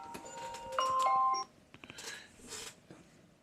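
An alarm notification chimes as a short bright electronic tone sequence lasting under a second, loud and close, followed by quieter clicks and rustling.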